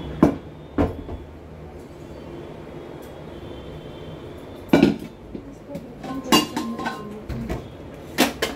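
A black pressure cooker and metal pots are handled in a home kitchen while rice is cooked, giving scattered sharp clanks and knocks at irregular intervals, fairly quiet, over low room background.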